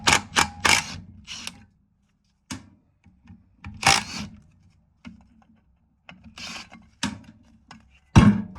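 Hand ratchet working two 12mm bolts off the governor plate of a Toyota A131L automatic transmission, close bursts of clicking turns separated by pauses, with metallic knocks and a sharp clank at the end.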